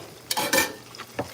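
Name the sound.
stirring food in a pan after cooking sausage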